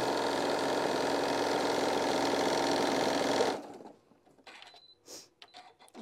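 A sewing machine stitching fabric forward and back runs steadily with a fast, even mechanical whir for about three and a half seconds, then stops abruptly, leaving faint clicks and handling noises.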